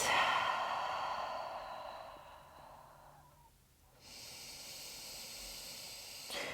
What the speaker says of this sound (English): Taking a couple of deep breaths.